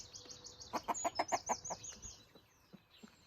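On a farm, hens cluck in a rapid burst of close, throaty calls while new chicks peep high and thin throughout, fading to scattered soft clucks.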